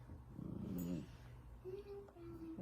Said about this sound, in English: She's growling at Bella